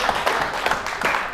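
Audience in Entebbe clapping briefly, a quick patter of scattered hand claps at close range with no voices.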